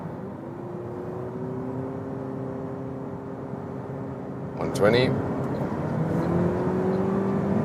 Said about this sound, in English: Now we hear something from that engine, and let's get to top speed.